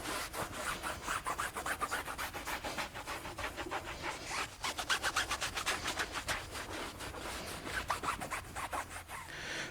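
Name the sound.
buffing tire dressing off tires with a towel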